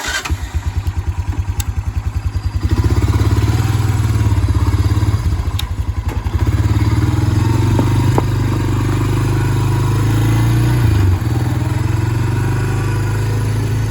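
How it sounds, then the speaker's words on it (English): Honda motorbike ridden around a farm, its engine loud and close, sputtering at first then steadily droning under throttle with small shifts in pitch as it rolls along. "we're going to take a little ride on the Honda"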